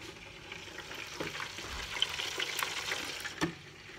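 Bacon is deep-fried in a fryer basket, giving a steady bubbling, sizzling hiss with scattered pops and crackles, moderately loud and close, with no voices over it.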